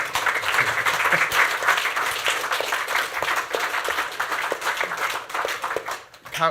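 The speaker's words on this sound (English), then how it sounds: "I think a round of applause" An audience at a tech event thanks two guest speakers with applause, a full, continuous patter of many people clapping that keeps up steadily and then thins out near the end.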